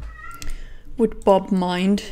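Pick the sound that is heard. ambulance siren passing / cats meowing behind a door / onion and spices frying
cats meowing behind a door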